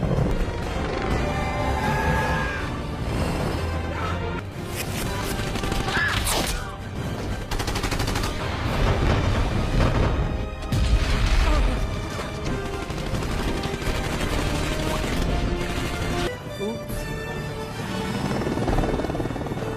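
Dense bursts of gunfire and explosions from weapons in a Hindi-dubbed Hollywood action movie, layered over helicopter-like rotor drone and loud, busy soundtrack noise throughout.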